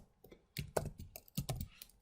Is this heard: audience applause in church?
no